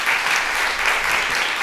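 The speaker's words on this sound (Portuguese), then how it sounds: "Uma salva de palmas para a nossa convidada" Audience at an education seminar applauding a guest speaker, a professor: full, continuous clapping from a room of people, loud and even throughout.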